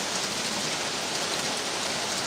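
Steady rain falling, a dense even hiss of drops on surfaces that stays constant and fairly loud with no breaks or voices.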